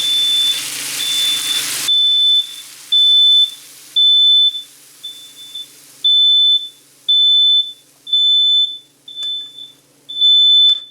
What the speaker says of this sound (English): That's just the smoke alarm. It does that.